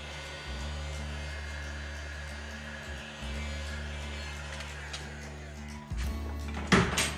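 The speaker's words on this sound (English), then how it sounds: "I'm gonna see if I can take my heat gun and put a little heat on it" A heat gun blows steadily with a hum while warming the carpet of a 1956 Thunderbird during installation, then a few knocks and clunks near the end, close and fairly loud with no talk.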